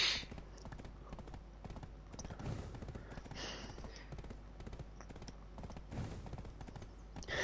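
Steady clip-clop of horse hooves walking on hard ground in Black Desert Online on PS5, a regular rhythm of close, crisp knocks over a soft background hiss.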